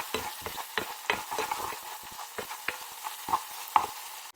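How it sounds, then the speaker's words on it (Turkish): Onions frying in a pan with mint and red pepper, stirred with a spoon, give a series of short scraping strokes over a low, steady sizzle, close up with no voices. "Şimdi nanemizle ve kırmızı biberimizle soğanımızı iyice pişiriyoruz."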